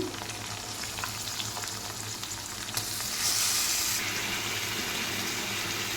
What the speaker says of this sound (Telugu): ఉల్లిపాయలు వేగాయి కదండి, ఇప్పుడు చికెన్ వేస్తున్నాను